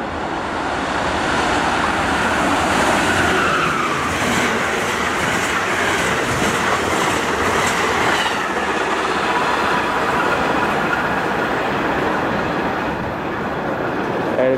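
A commuter train rolls past Cornwells Heights in early morning rush hour, a loud, steady rumble of wheels and carriages under overhead wire with faint clickety-clack, close by and continuous with no talk.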